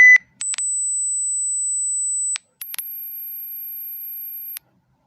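A mobile phone speaker plays pure electronic test tones: a brief chirp, then a steady high tone lasting about two seconds, a short gap, and an even higher sustained tone, all loud and clean over silence.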